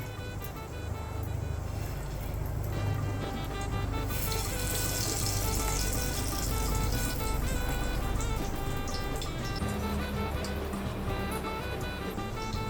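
Small baby shrimp patties (kolim vadi) fry in hot oil with a steady, dense sizzle that swells after a few seconds and holds continuously to the end, with no talking.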